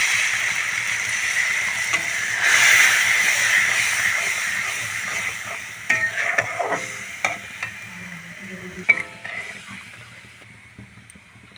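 Water added to a sizzling fried masala for matar paneer hisses steadily at first, then gives way to repeated scraping and clacking stir strokes in the pan, close and fairly loud, without talk.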